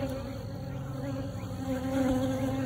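Close, steady droning hum of many honeybees buzzing on brood frames, a continuous layered whine that swells slightly near the end, with no talking.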